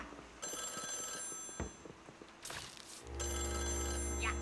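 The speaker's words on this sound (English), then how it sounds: "Oh, phone call." A telephone rings in the Luigi's Mansion 3 video game, a bright, trilling electronic ring that keeps going for several seconds. Game ambience and effects play beneath it, and a deeper hum swells near the end.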